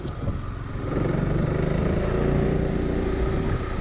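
A Piaggio MP3 three-wheeled scooter's single-cylinder engine runs steadily nearby, a low throbbing putter that holds an even idle without speech.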